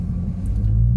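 Dodge Charger Scat Pack fitted with a Hellcat air filter, driving off on a very cold day, gives a steady deep engine rumble that swells slightly near the end, with no talking.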